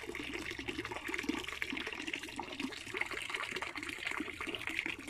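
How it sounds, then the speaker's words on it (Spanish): A small solar-powered water pump in a garden pond sends water splashing and trickling steadily into the pond, a close, continuous babbling pour with no voices. "que está conectada ahí una pequeña bomba de agua."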